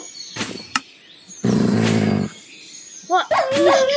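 A dog barks in a zombie tower defense video game, a few short loud yips and a longer bark burst between bursts of game noise.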